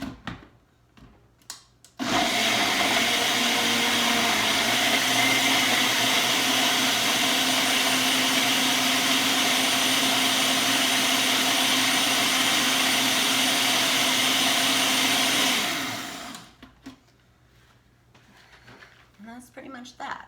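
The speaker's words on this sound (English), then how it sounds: "we're going to go blend this up" A blender whirs loudly and steadily for about fourteen seconds while blitzing immunity shot ingredients, starting abruptly and winding down at the end, with quieter handling noises before and after.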